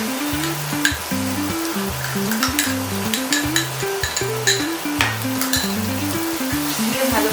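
A paste of cashew, almond, raisin and poppy seed fries in a pan for a paneer dish, crackling loudly with stirring clicks over a low musical backing.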